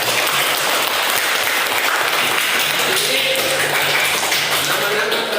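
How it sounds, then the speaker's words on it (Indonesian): Classroom applause: steady, dense clapping from a group of students that fills the whole stretch at full loudness, with no pauses. "Coba saya aplaus dulu."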